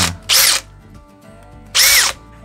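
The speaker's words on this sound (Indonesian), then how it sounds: "Okay, ini adalah impact driver dan drill driver." A cordless drill driver for woodworking whirs in two short, loud bursts of about a third of a second each, close by. The motor revs up and winds down each time, with near silence between the bursts.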